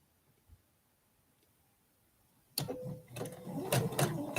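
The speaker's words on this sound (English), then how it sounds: "I'm just going to take a stitch." A sewing machine stitching a quilt block starts after a quiet pause, giving a close burst of rapid mechanical whirring and ticking that runs to the end without any talk.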